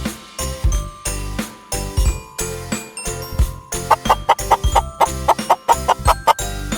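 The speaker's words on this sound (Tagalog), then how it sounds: "Chicken." A chicken clucks in a rapid run of short, close calls that quicken into an insistent, rhythmic series toward the end, heard alone with no talking.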